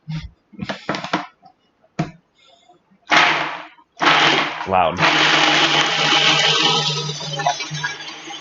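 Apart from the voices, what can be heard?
food processor blending vegan meatball mixture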